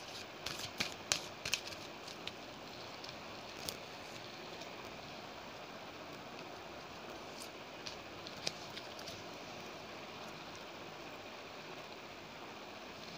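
Playing cards are shuffled quietly nearby, giving soft riffling and a scattered run of light clicks over a faint hiss, with no voices.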